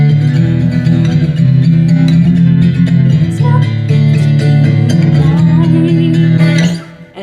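A strummed acoustic guitar plays a driving gallop rhythm, loud and close, chords changing steadily before ringing out at the end.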